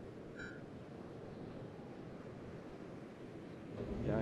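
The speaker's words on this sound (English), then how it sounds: "And we have a sandstorm." Steady rushing sandstorm wind in the colony-building game PlanetBase, a continuous low roar with a brief tonal chime near the start and the wind swelling louder at the end.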